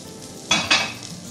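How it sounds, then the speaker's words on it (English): Mushrooms, a small handful, fry in a hot pan ahead of going into a risotto, giving a steady soft sizzle with two brief louder bursts as they are stirred or tossed. "So I'm going to do these mushrooms. I'm going to cook them off just for a couple of seconds"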